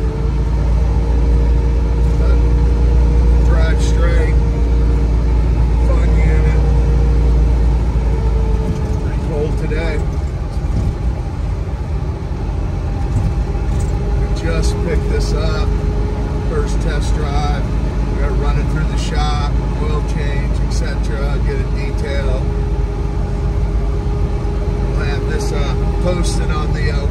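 A lifted 1974 Ford Bronco 4x4 with low gears, frame-off restored, pulls away with its engine running as a steady low rumble throughout, close and loud, with some talking over it.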